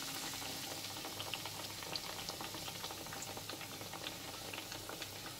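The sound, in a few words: potato slices frying in hot oil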